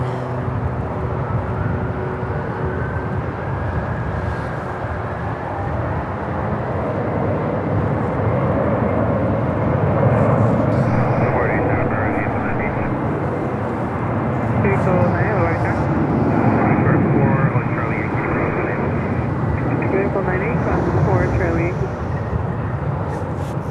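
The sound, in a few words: ABX Air Boeing 767-300 taking off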